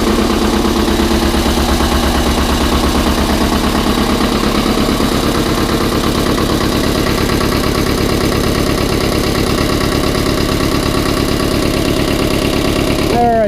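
A G154 engine freshly honed and fitted with new rings runs steadily at a fast idle, a loud continuous close-up drone with a rapid even pulse throughout, no speech.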